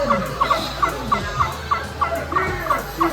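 Repeated turkey gobbles from a turkey-themed theme park ride in Indiana ring out in quick, rhythmic bursts over a busy, noisy background, fairly close and clear.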